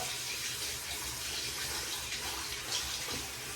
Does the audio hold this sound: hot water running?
yes